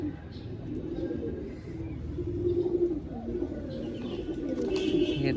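Pigeons coo in low, soft, repeated murmurs close by, with a faint chirp or rustle near the end.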